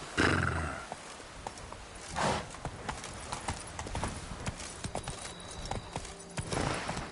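Hooves of Roach, Geralt's horse in The Witcher 3: Wild Hunt, clopping at a steady gait under game ambience, with a few louder snorting or whinny-like bursts near the start and end and no talking.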